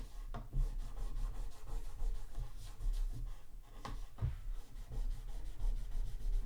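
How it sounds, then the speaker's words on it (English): Cloth wiped back and forth along the fretboard of an acoustic guitar during cleaning, giving a steady close rubbing sound with a few firmer strokes and no voices. "use the clean portion of our cloth and just wipe in what's left"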